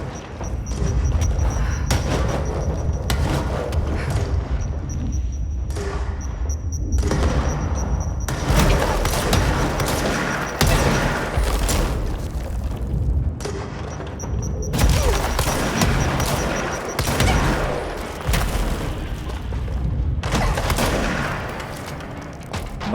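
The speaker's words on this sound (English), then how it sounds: "Point blank shotgun." Repeated point-blank shotgun blasts in the video game Control, loud heavy booms fired in quick irregular bursts amid continuous combat noise, with only occasional faint voices.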